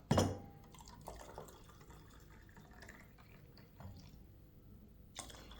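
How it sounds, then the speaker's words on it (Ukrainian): Hot water from a kettle or tap pours into a container holding a laundry activator, a faint splashing fill after an initial louder splash, with quiet drips following. "І додамо ще гарячої, гаряченької води, щоб побачити оцей гарний результат."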